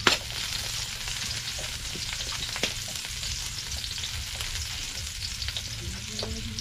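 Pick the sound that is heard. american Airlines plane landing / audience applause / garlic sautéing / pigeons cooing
garlic sautéing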